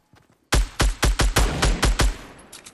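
Rapid gunfire in the video game Fortnite: about nine sharp, loud shots in quick succession over two seconds, mostly evenly spaced, with no talking.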